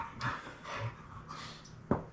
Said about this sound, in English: I apologize about the dog noise in the background.